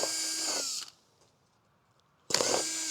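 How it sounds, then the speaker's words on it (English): A power drill punches holes in the bottoms of crates outdoors in a garden. Two loud, close bursts of whining motor are split by a short silent pause. "Got a drill"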